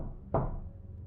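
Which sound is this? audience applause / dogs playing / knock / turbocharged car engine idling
knock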